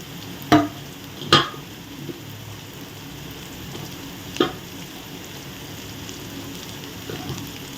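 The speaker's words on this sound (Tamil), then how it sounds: "கேரட் போட்டுக்கலாம்" Carrot stir-fries in a pan for string hopper kothu, a soft continuous sizzle broken by a few sharp scraping clatters of a utensil early on, then quieter stirring with no talk.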